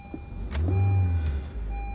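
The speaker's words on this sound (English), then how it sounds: "it's a Honda, so you turn the key." A Honda economy car's ignition key turns and the small engine cranks and catches with a brief whir, then settles into a low, steady idle heard from inside the cabin, with a couple of faint clicks and no talking.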